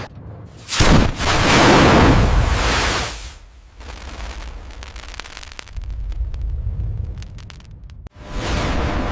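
A HIMARS GMLRS rocket launches with a loud roaring blast that swells and rumbles for several seconds, then fades into a lingering rushing noise and a second surge at the end, with no voices.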